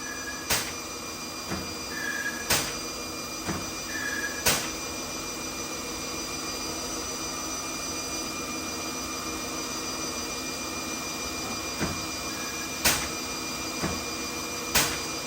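A lathe taking a light touch-up pass on rifle barrel threads for a 22 Creedmoor AR conversion, a steady whining machine drone with sharp clicks and knocks at irregular intervals, close and loud, no talking.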